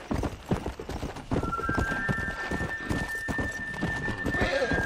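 Horse hooves clip-clop in a steady rhythmic gallop in the video game Red Dead Redemption, close and continuous, with a brief whinny near the end.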